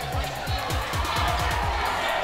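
Basketball arena crowd during a college men's game against Cornell, a loud sustained roar of cheering that swells steadily, with rhythmic low thumps running underneath.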